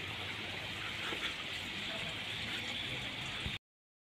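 Rainwater from a heavy overnight storm rushes down from the mountains around Patriata, Murree, in a steady, loud, continuous wash of flowing water with no breaks.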